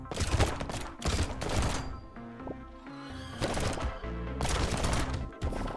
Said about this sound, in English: It's like I'm making a bunch of pistols look like they're machine guns by firing 6 of them at once. And 1 blunderbuss.